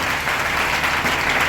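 A church congregation at a Tuesday worship service applauding the Lord, steady dense clapping from many hands filling the room without pause.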